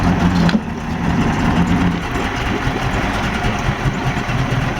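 2004 Mercury 60 hp two-stroke outboard idling steadily nearby, a smooth low continuous rumble with an even beat and no talk over it.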